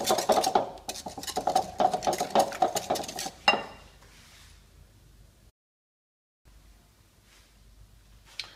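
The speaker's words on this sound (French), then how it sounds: "Je fouette le tout." A whisk beats vanilla cream in a bowl, quick rapid clinking strokes close up for a few seconds, then a single knock and quiet handling noise before near silence.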